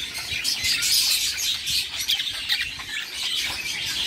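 Budgerigar chicks about 36 days old chirp and squawk in a nest, a dense close chatter of high overlapping calls that runs without pause and carries no speech.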